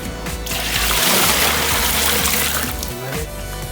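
Water pours into a pot for Kerala-style beef biryani, a loud continuous gushing splash that lasts a few seconds and is heard close by.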